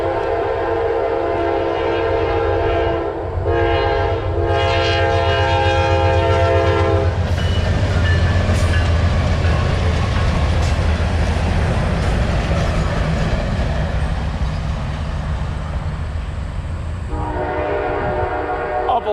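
A long passenger train passes close by, sounding sustained, loud horn blasts over the heavy rumble and clatter of rail cars rolling along the track.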